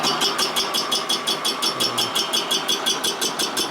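A boring machine takes a light cut inside a cylinder of a 1941 Harley-Davidson WLD 45 flathead stroker engine, producing a loud, steady motor hum with a rapid, evenly pulsing chatter repeating several times a second.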